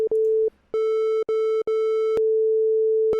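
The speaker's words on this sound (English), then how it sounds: "The next shape we have is a triangle wave." Steady synthesizer triangle-wave tone at one pitch with soft upper harmonics, sustained loudly and alone, cut by brief gaps and clicks as it is switched off and on several times.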